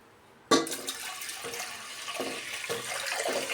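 Water suddenly starts gushing from a tap into a pressure cooker, a steady splashing pour that continues with slight changes in tone.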